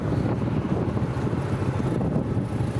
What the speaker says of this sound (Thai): ลมมาอีกแล้ว